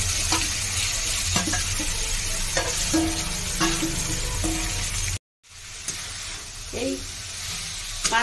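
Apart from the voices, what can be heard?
crushed elephant apple (chalta) frying and stirred in oil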